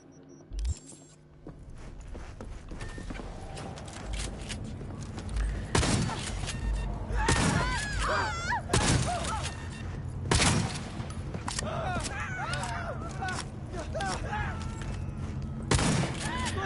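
The Executioner gun firing in Cyberpunk 2077, several loud, spaced, booming shots over steady game ambience, with game voices between the blasts.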